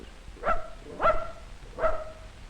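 A dog barks three times at a snapping turtle, evenly spaced sharp barks at moderate distance on an old 16mm film soundtrack with a thin, hissy background.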